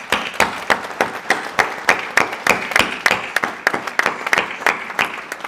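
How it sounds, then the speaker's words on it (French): Enthusiastic audience applause at a May Day rally, many hands clapping steadily and densely, loud and close, with no voices over it. "je pense qu'ils méritent toutes et tous nos plus chaleureux applaudissements"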